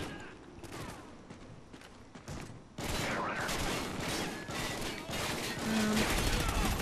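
Sustained automatic gunfire in Call of Duty: Ghosts on Xbox 360, dense rattling bursts that grow louder and continue through most of the clip.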